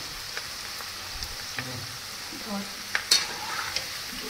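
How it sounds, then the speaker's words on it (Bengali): Green chillies and curry leaves fry in hot oil for kabuli chana pakoras, a close steady sizzle with crackling pops and a few spoon scrapes, and no talk. "এগুলো ভাজা হোক।"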